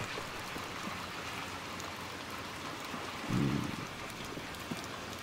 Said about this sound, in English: the rain got worse.